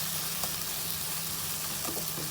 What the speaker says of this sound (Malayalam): ഈ തക്കാളി നന്നായി വെന്തതിന് ശേഷം മാഷ് ചെയ്തെടുക്കണം അതുവരെ നമുക്കിതിനെ വഴറ്റിയെടുക്കാം